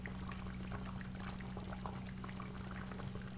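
A Moroccan sauce with chicken simmers in a pot, giving a close, steady bubbling and burbling with a low hum beneath and no voices.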